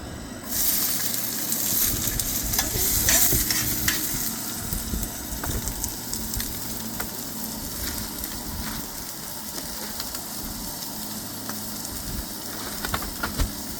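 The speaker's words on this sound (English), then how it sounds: "I'm going to saute up some veggies that I have here" Garden peppers and onions sauté in a pot with a steady, moderate sizzling hiss, a few clinks over it, heard close up without talk.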